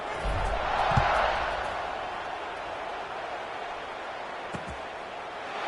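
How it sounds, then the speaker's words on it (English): Football stadium crowd at an Oklahoma State college game, a broad steady roar and buzz after a score, filling the whole stretch with a few brief thumps mixed in. "this crowd is buzzing after that last score"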